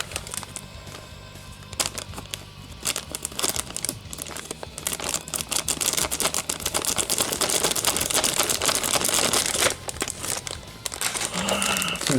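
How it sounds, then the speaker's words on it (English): A plastic bag around a Figma Doom Slayer figure is torn open, giving loud, close, continuous crinkling and crackling that builds into dense tearing rustles for several seconds. "Time to rip and tear the bag."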